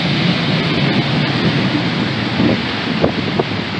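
Strong derecho storm wind roaring in a backyard, a loud continuous broadband rush buffeting the microphone, with faint rustling and small gust swells.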